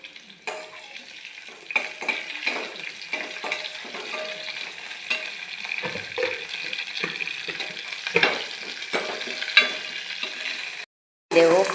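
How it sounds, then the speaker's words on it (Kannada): Mustard seeds, lentils and curry leaves crackle and sizzle in hot oil for tempering, a busy close spatter with stirring clinks throughout, ending in a brief silence and a short burst of noise. "ಒಗ್ಗರಣೆ"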